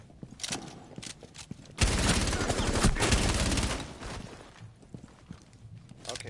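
Gunfire with heavy recoil in the video game Rainbow Six Siege, a loud sustained burst of automatic shots lasting about two seconds, with scattered single shots and footsteps before and after.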